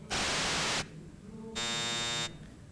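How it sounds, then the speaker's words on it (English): Chip-music noise generated by a linear feedback shift register plays as a loud burst of hissing white noise, then after a short gap a second burst with a buzzy, metallic, tonal texture. "So we're going to listen to first white noise and then the metallic noise."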